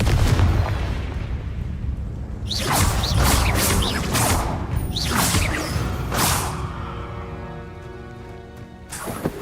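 A Confringo fire spell blasts in Hogwarts Legacy, loud rushing whooshes and crackling bursts layered over a dense rumbling bed, with several sharp swishes in the middle and a final burst at the end.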